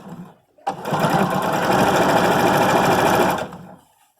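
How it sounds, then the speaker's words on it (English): A sewing machine stitches a cuff sleeve, running as one loud, steady, close burst of about three seconds. A brief voice comes before it and after it. "I'm just going to go use the machine, so I'm just unfolding it out like that, and then I'm going to sew along here."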